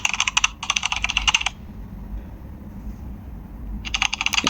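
Mechanical keyboard typing sound effect plays in quick clattering bursts of keystrokes, a pause of low hiss, then another burst of rapid typing.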